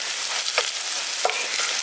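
Onions fried to reddish brown in a pan, a steady close sizzle with two soft spoon scrapes.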